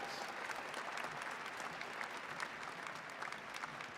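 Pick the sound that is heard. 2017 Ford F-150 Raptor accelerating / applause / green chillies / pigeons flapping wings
applause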